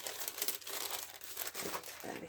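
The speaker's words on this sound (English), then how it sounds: "sorry for the crickly noise" Junk mail paper crinkles and crumples in short, continuous rustling bursts close to the listener, quiet and dry, with no voices.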